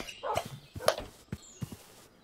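A few sharp dog barks and yips close by, irregular and brief, separated by short pauses.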